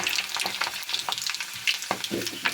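Garlic cloves and mustard seeds fry in hot oil for a pickle, crackling and spitting in quick, irregular pops over a close, busy sizzle.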